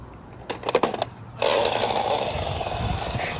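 A few quick clicks, then a small toy car motor kicks in with a buzzing, raspy whir that runs steadily to the end.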